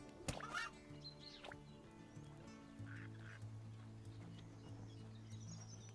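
Demon chickens in the game Chop Chop Inc. let out honking, quack-like squawks in short bursts over a steady low drone, with a sharp hit near the start.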